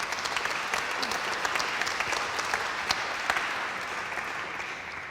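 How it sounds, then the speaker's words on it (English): An audience gives a warm welcome to a panel at an event on art, culture and the economy, with sustained, even applause from many hands that fades gradually toward the end. "So a round of applause,"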